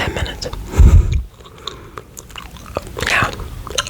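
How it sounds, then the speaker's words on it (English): Gum chewed close to the mic makes wet, smacking bites, with a heavy crunchy burst early on and softer irregular clicks and squishes after it. "the chewing sound might be too loud"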